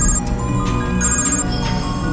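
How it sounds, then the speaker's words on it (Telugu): A mobile phone ringtone plays in a Telugu movie scene, a steady repeating electronic ring of bright tones with no talk over it. "అన్నా అన్నా ఆడి ఫోన్కి డిఎస్పీ ఫోన్ చేస్తున్నాడు అన్నా"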